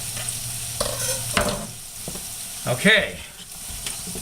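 Onions fry in a pan with a low, steady sizzle, interrupted by a few scraping stirs and clattering knocks of a utensil; someone speaks a word briefly partway through.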